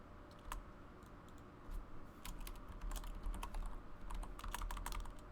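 Fingers type on a computer keyboard at a PC during game character creation, producing quiet, close, irregular clatters of keystrokes that come in loose bursts and grow busier toward the end.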